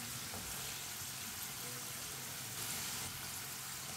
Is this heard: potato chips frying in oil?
yes